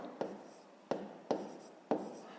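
A pen writes a multiplication sum by hand on paper, heard as four short, close scratchy strokes spaced about half a second apart in a quiet room.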